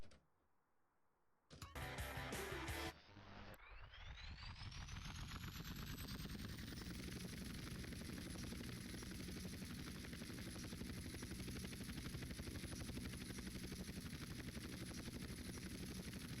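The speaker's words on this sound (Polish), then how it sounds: "Popatrzcie jaki zajedwabisty helikopter znalazłem" A helicopter in GTA San Andreas spins up after a few sharp bursts, its rotor drone and high whine rising and then holding steady, loud and continuous.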